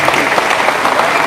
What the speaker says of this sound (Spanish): Un fuerte aplauso, que se escuche esos aplausos.